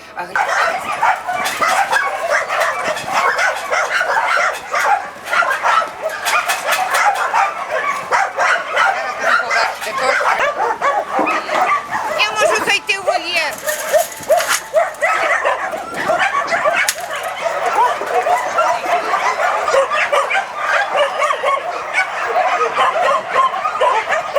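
Many dogs at an animal shelter in Novohrad-Volynskyi, Ukraine, bark, yip and whimper continuously in a noisy chorus, some near and some farther off, with voices mixed in.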